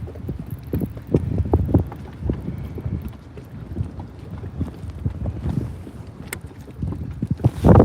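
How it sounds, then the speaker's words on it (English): Gusty wind buffets the microphone on a lake during bass fishing from a boat, a steady low rumble with irregular thumping gusts throughout and a louder blast at the very end. "Can you guys hear all that wind?"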